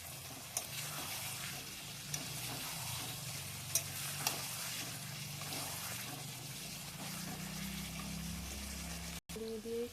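Chicken stir-fried in a pan with a little added water, a steady close sizzle and bubbling with occasional stirring clicks of a spatula, continuing evenly throughout.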